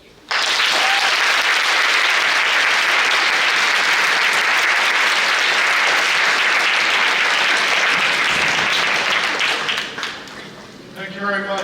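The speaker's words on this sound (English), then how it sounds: "Another round of applause." An audience applauds at an encore performance, with sustained, loud clapping filling most of the stretch before fading as a voice begins speaking.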